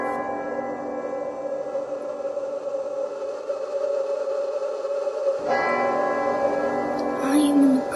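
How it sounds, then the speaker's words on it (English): A deep bell in a Christmas Carol ghost scene tolls with a long, sustained ringing tone, then a second stronger strike near the end, heard alone over a dark ambient drone. "the bell soon tolls"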